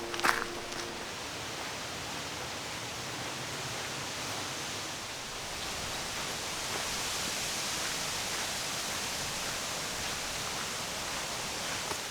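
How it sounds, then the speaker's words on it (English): Steady broadband rush of a waterfall heard from roughly 100 feet away at a campsite, a continuous even wash of falling water with no voices over it. "I'm 100 feet from the waterfall, to be exact. I can hear it."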